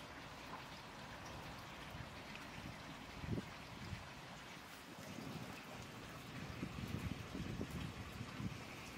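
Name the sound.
small pond waterfall stream running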